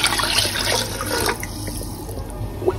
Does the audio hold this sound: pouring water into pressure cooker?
yes